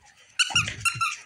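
A dog's squeaky toy lets out a rapid series of four or five sharp, high squeaks, close and loud, with no talking over them.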